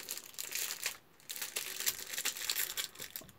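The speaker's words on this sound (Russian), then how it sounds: "Извините за шум. Сейчас из пакетика я их все достану." Plastic crinkles and rustles in irregular bursts, close and fairly quiet, with brief pauses between handlings.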